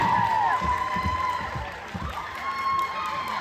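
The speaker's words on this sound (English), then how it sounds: "a big round of applause to your teachers, your principals, and your whole entire administration" A school crowd claps and cheers for its teachers, principals and administration, a loud, broad wash of applause and shouting that slowly fades, with whistle-like tones riding over it.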